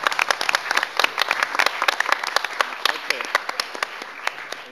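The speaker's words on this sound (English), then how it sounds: "Round of applause." A university music business panel audience gives a round of applause: sharp, uneven hand claps from a modest crowd, close and fairly loud, continuing steadily without talk.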